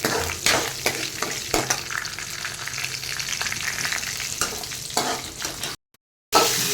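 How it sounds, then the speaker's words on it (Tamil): Onions and curry leaves sauté in a pan for a Madras-style fish kuzhambu, producing a loud, close, continuous sizzle with frequent stirring scrapes, briefly cutting to silence near the end before the frying resumes. "இதில் வெங்காயமும் கருவேப்பிலையும் சேர்த்து நல்லா வதக்க போகிறோம்."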